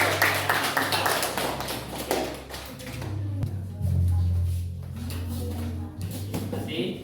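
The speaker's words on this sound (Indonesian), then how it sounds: "Ya, kita berikan tepuk tangan ya." A classroom group claps after a student presentation on photosynthesis: an uneven patter of hands, moderately loud at first and then fading under a low steady hum and faint room noise.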